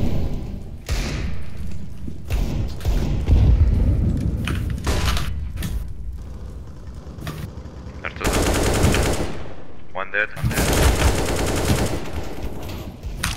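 Loud, dense video game combat: heavy thumps and rapid gunfire come in blocks, and a big blast lands near the middle, all up close with little quiet in between.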